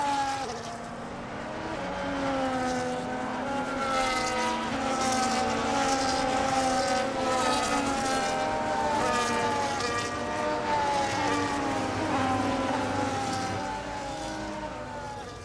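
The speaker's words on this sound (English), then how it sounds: "As the cars make their way back to the starting grid to form up and get ready for lights out" Several race cars in the F1 25 video game roll toward the starting grid at Monza, overlapping engine whines rising and falling steadily, loud and close throughout.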